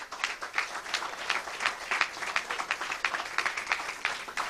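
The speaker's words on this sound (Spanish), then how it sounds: "Voy a pedir un aplauso para todos los que han asistido." A modest crowd of attendees claps at a public talk in Spain, heard as a lively patter of individual hand claps at moderate distance, steady for the whole stretch.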